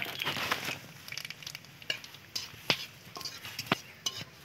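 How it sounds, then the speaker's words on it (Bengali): Dried red chillies and black cumin frying in hot oil, a soft crackling sizzle with a few sharp pops and faint clinks of a utensil, quiet and close. "দেখো গরম তেলের উপরে দুটো শুকনো লঙ্কা দিলাম, একটু কালো জিরে দিলাম, দিয়ে এটাকে একটু ভেজে নেব।"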